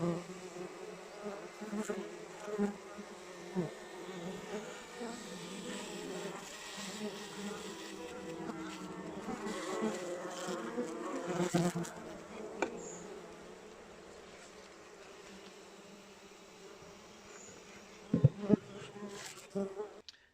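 Close, continuous buzzing of a bumblebee colony humming together, soft and steady, with a few louder knocks near the end.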